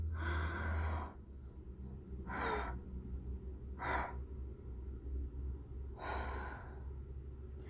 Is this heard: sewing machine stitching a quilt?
no